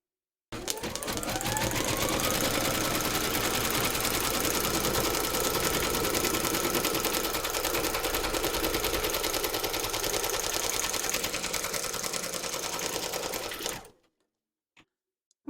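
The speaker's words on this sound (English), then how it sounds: "We're now going to stitch round number 4, and that's going to give you your fabric placement outline for his tummy" An embroidery machine stitching a placement outline for a teddy's tummy appliqué runs continuously with a fast, even rattling needle rhythm close by for about thirteen seconds, then stops abruptly, leaving near silence with a couple of faint clicks.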